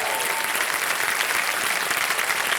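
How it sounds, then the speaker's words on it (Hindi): A studio audience at a quiz show applauds a winner, with thick continuous clapping at a steady level filling the whole stretch, alone and fairly close. "तो सबसे पहले तालियां बज जाए"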